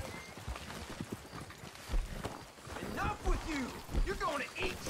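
Horse hooves clip-clop in a steady trotting rhythm in a western video game set in Texas, with occasional snorts and whinny-like calls and people talking over the hoofbeats.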